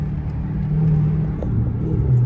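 Dodge Hellcat being driven, heard from inside the car as a steady, loud low engine rumble and road drone that swells slightly toward the end, with no talking.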